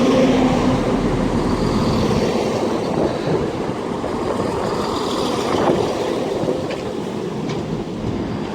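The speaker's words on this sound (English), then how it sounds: "arriving in now is going to be the 11:21 ScotRail service to Edinburgh Waverley from Dunblane" A ScotRail passenger train on the Dunblane to Edinburgh Waverley service pulls into a station with a loud, steady rumble of wheels on rail and a low engine drone, easing off slightly as it slows.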